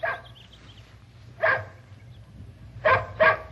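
A dog named Peanut barks in a few sharp bursts, one near the start, one mid-clip and a quick double bark near the end, fairly close, over a low steady hum with no talking.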